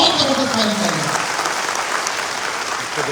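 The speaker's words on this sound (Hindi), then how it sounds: "बहुत जबरदस्त ताली चाहिए" A roaring round of clapping from a company gathering honoring its founder, dense and loud throughout, with a few voices calling out at the start before the applause settles into a steady wash.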